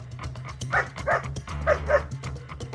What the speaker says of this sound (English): Keep coming out, the dog's on a lead!